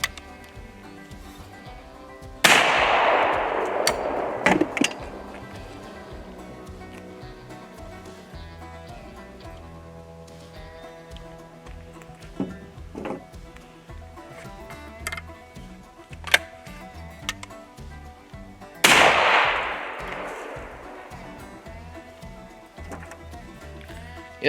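A 100-year-old single-shot shotgun fires twice outdoors, two loud sharp blasts about sixteen seconds apart, each with a decaying echo, separated by quiet clicks and handling noises from the gun.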